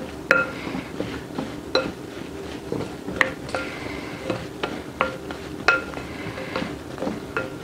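Wooden spoon stirring vegetables with spice blend in a pot, producing steady knocks and scrapes with occasional bright clinks, close and continuous.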